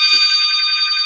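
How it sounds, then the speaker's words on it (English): Phone ringing, an electronic trilling ring tone that is loud, close and steady throughout with no pauses, heard alone. "That's a phone ringing on my other phone."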